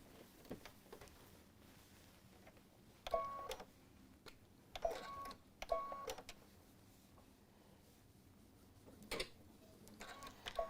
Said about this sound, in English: I come over to the sewing machine and stitch it into place